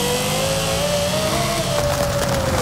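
A Lexus LC 500 V8 in Forza Horizon 5, fitted with antilag, revs loud and steady, its engine note holding a sustained drone with crackling pops near the end and no talk over it.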